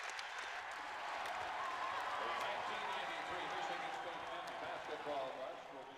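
Basketball arena crowd during a college game between Michigan and Michigan State, a broad sustained roar of cheering and applause that stays loud throughout.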